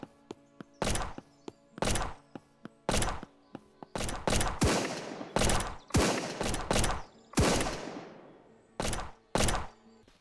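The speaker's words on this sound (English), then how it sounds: "I hear somebody shooting up here" Gunfire in the zombie survival video game Surroundead: about a dozen sharp, loud shots and short bursts fire at uneven intervals, some trailing into brief echoing tails.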